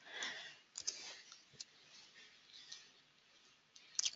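Mouse clicks on a confirm button in a freelance translation web platform: three or four sharp, faint, isolated clicks against a quiet background hiss, with no talking.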